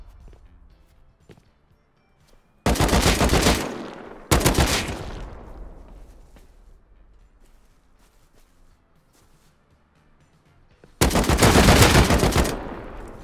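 Gunfire in the survival game Rust: three loud, close bursts of rapid shots, each a dense clatter lasting about a second, separated by quieter stretches with faint footsteps and echoing tails.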